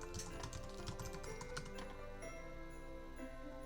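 Soft keystrokes on a computer keyboard come in an uneven run as text is entered into a font box, faint and close against a quiet room.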